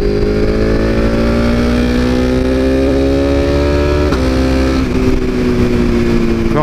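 BMW S1000RR sport bike engine with a loud aftermarket exhaust, revving steadily upward in pitch, close and very loud throughout, with a brief blip near the end.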